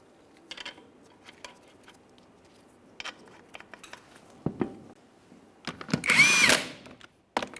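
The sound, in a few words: power tool starting 22mm lug nuts on truck wheel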